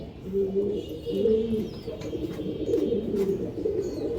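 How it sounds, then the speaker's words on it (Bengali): Pigeons coo in soft, throaty repeated phrases close by, several active birds, including a silver pair, overlapping in a low rolling murmur with faint background noise. "খুবই অ্যাক্টিভ কবুতর এবং ভালো ব্লাডের কবুতর"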